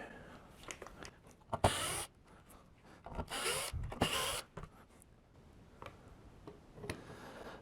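The bridge is pried off a budget electric guitar in short bursts of creaking, crunching and rubbing, close by and separated by quiet pauses.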